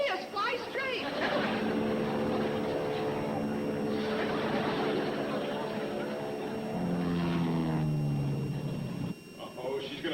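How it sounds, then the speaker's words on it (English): A small propeller airplane drones overhead steadily throughout, its engine tone rising and shifting as it banks, with people talking over it. "She's flying the plane crooked."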